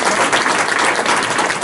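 A room of people gives a presenting group a quick round of applause, dense steady clapping that fills the whole moment without a break.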